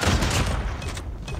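Dense, continuous gunfire from the mobile shooter Call of Duty Mobile, a loud rapid burst of overlapping shots with no clear gaps, heard alone without talk.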